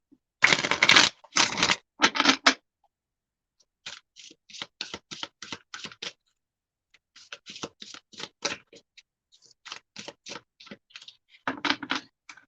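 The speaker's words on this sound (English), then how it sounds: "I'm just going to pull a couple tarot cards." Tarot cards are shuffled and pulled by hand, giving crisp riffling bursts near the start followed by scattered light flicks and taps of cards, close and clear with no talk.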